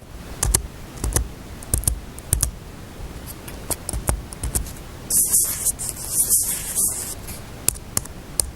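Keys clatter on a Microsoft Surface Pro 4 Type Cover keyboard, a close, crisp run of uneven taps and clicks heard on their own with no talk.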